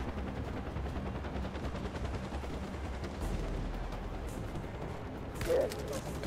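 Rapid gunfire crackles through a firefight in Far Cry 4, set in the Himalayas, a dense burst of shots running steadily under game ambience with a louder flare near the end.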